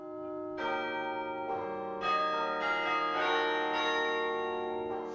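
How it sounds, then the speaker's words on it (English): Carillon bells ring in an acoustically designed tower bell chamber, several loud overlapping strikes with long ringing tones that sustain and blend together. "It's an acoustically perfect bell chamber for this carillon."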